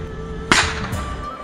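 A whip cracks sharply once, loud and close, with a fainter second snap right after, set against a quiet street background in China where whip cracking is done for recreation.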